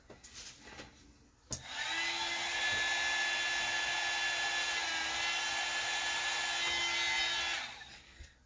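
A hair dryer blasts air onto a craft project, switching on abruptly and running as a loud, steady whirring drone for about six seconds before cutting off, with faint handling noises before and after.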